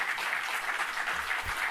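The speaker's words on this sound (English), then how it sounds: "they do have activists there to do the clapping and the whooping and stuff" Activists at a press conference clap in a dense, steady burst of applause that carries evenly through the short moment without pauses.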